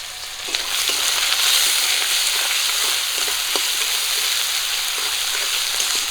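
Onion and green chili sizzle steadily in hot oil, a continuous close, bright frying hiss with faint stirring clicks and no voices, while fish curry with potatoes is cooked village style.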